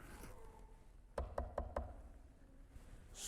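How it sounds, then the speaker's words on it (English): Four firm knocks on a wooden door in a quick, even sequence, moderately close, set against a quiet room with faint background noise and no talking. "I knocked."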